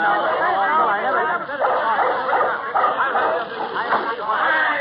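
A small dog yaps and yips repeatedly in an alley outside a house, the barks busy and overlapping with excited chatter and voices in an old radio comedy scene.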